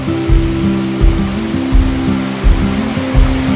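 Water pouring down a mountainside waterfall, a loud steady broadband rush heard up close, with a low rhythmic thumping pulse recurring under it and no voices.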